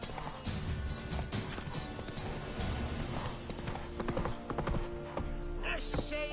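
Roach the horse trots along in The Witcher 3 video game, its hooves clip-clopping in a quick, steady rhythm with game music and ambience underneath and a brief whinny near the end.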